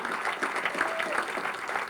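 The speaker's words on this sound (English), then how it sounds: "I want a round of applause for Jeff Parker and Amna Vlasic" Audience at a fire and lifeguard appreciation dinner applauding, a dense, even patter of many hands heard from a slight distance, steady for the whole stretch.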